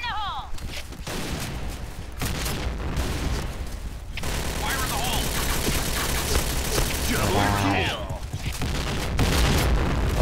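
Loud bursts of gunfire and booming explosions in the shooter game Point Blank, with a couple of brief voice fragments mixed in over a dense, noisy background.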